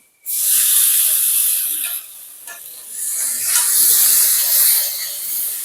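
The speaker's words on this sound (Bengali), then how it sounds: "এবার এই সময় কেটে রাখা টমেটোগুলোকে দিয়ে দেবো" Chopped tomatoes hit a hot pan while cooking spinach and potato curry, setting off a loud, bright steamy sizzle that dips briefly midway and then swells again, with no voices.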